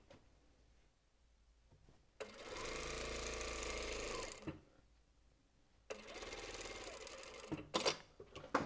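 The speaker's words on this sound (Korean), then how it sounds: "뒷판 쪽에도 이렇게 겉쪽에다가 놓고 4분의 1로 쭉 박을게요" A sewing machine runs two bursts of rapid, steady stitching along a dress seam, each lasting a couple of seconds with quiet pauses between, followed by a few short clicks near the end.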